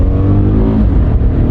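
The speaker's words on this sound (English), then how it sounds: "Now, it's a normally aspirated V6 engine," Car with a normally aspirated V6 engine floored on a road, a loud, steady engine roar rising briefly without any other sound over it.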